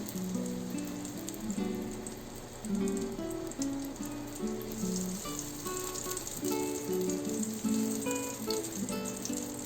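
Butter and a little oil sizzling and frying steadily in a pan for an Andhra-style country chicken biryani, a continuous close crackle with a faint background hum and no talking.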